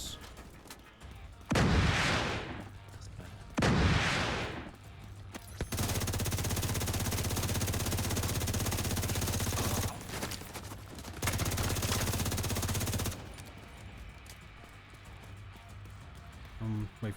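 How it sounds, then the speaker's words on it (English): Mortar fire in the video game The Division 2: two sharp, booming blasts followed by longer stretches of dense, rumbling barrage that stop and restart, loud and close over a quieter background. "Mortars."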